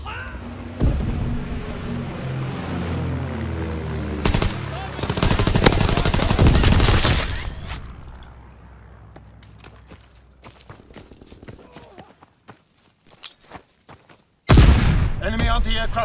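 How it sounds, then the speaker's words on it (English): Anti-aircraft fire and explosions in Call of Duty WWII, dense rattling bursts and heavy booms that fade to scattered pops, then erupt again loudly at the end, with shouted voices in between. "Enemy anti-aircraft fire!"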